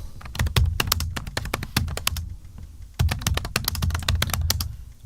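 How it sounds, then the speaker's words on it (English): Fingers type on a computer keyboard in two quick bursts of rapid, close clacking keystrokes, with a short pause between them. "Okay, I'll type that in."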